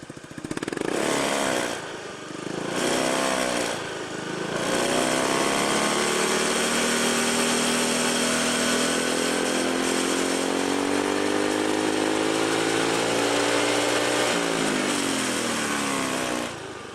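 A Honda Beat FI scooter with a modified exhaust revs hard with a raspy, buzzing exhaust, rising and falling in a few bursts before holding a loud, steady high drone close by.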